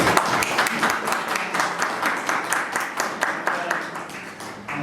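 An audience at a Peruvian political talk event applauds Diego Yalzovic, owner of Boticario, with moderate, fairly even clapping that carries on steadily for a few seconds.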